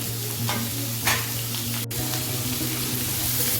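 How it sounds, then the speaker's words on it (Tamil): Onions and chillies sizzle and crackle steadily in hot oil, with a few soft stirring scrapes and a brief clack partway through. "வதங்கட்டும் நல்லா ப்ரௌன் கலரில் பொன்னிறமாக வதங்கணுங்க"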